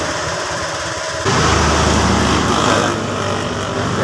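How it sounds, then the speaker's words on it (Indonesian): A rough, buzzing Honda Vario 125 FI scooter engine that smokes white and drips water runs up close and loud, idling harshly and then rising briefly in pitch before settling back. "Suara mesinnya juga kasar sekali."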